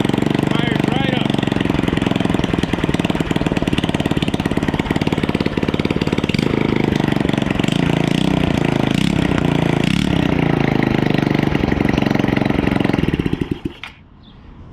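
A Honda Ruckus scooter with a swapped-in GY6 150cc engine idles loud and close, a rough, steady putter with faint talk underneath, then it cuts out abruptly near the end.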